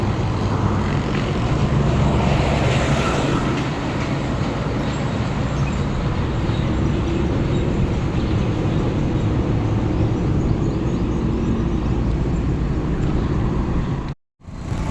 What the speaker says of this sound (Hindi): तो हम जा रहे हैं मोटरसाइकिल पे घर।